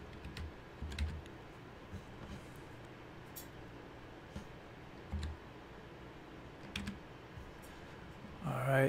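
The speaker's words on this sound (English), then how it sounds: "Let me just type this in." Faint, sparse typing on a computer keyboard: scattered soft key clicks in a quiet room.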